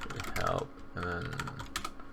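Keys clatter on a computer keyboard, close and fairly quiet. There are two short bursts of typing with a brief pause between them, and a voice talks faintly underneath.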